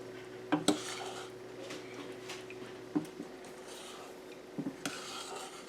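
A spoon clinks and scrapes a few times against a pot as sugar syrup with a pinch of salt is stirred, sparse taps spread over a low steady background hum.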